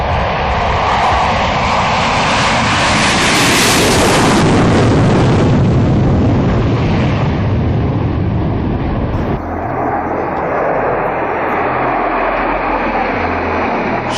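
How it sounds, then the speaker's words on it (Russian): Six MiG-29 jets of the Strizhi aerobatic team flying in formation at an air show, a loud roaring jet engine sweep that builds and passes overhead with a rising whine, then a sustained rumbling roar. "Шесть самолетов в едином строю. Их хорошо можно и видеть, и слышать."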